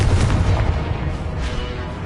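Confringo blasting spell explosions from Hogwarts Legacy, heavy booming blasts that roll together into a dense, continuous low rumble with crackling bursts on top, loud and close throughout.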